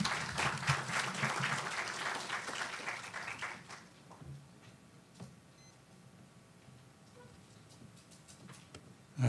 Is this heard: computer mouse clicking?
no